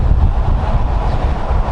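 Steady, loud wind buffeting a microphone on a road trip from Vladivostok to Yakutsk, a constant low rumbling roar with no other sounds.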